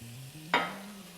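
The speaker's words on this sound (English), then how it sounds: "just gonna try to spread this bacon around a little bit" Bacon cooking over medium heat in a soup pot, a single quick scrape-and-sizzle burst as it is pushed around, close and brief over a low background hum.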